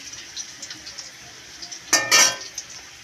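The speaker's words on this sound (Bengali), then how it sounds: "ঘির সাথে পেঁয়াজ ভাজা হচ্ছে" Onions fry in ghee, a soft continuous sizzle close by, broken near the end by a couple of brief louder bursts of stirring and scraping in the pan.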